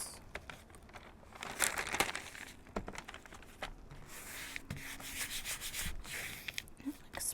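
Paper being rubbed and smoothed by hand onto a craft surface for a decoupage project: soft scratchy strokes and crinkles in irregular bursts, close and quiet, with no talking.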